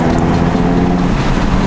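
Audi RS3 exhaust running with the valves closed in comfort mode, a steady low droning rumble heard from inside the car, continuous and fairly loud with no change in pitch.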